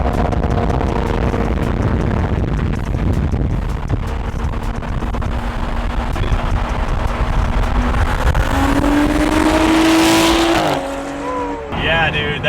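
BMW F30 335i with an N55 engine and a custom straight pipe exhaust revs loudly up to a rising peak, then drops off, with a steady exhaust drone and wind buffeting throughout.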